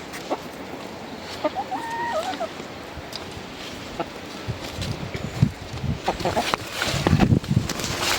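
Chickens cluck and murmur close by, with scattered pecking and rustling noises that grow busier toward the end.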